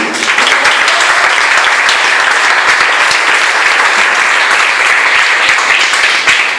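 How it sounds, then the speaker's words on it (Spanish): A church congregation claps loudly and steadily throughout, a dense continuous wash of applause with no speech over it. "Pueden darle un aplauso al Señor todavía"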